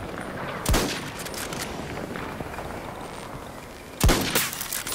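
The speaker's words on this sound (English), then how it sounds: "This one doesn't have a very high arc on it because it's rockets." Rockets fire in a military shooter game, two sharp loud launch blasts a few seconds apart over a constant rumbling battlefield bed with scattered distant gunfire.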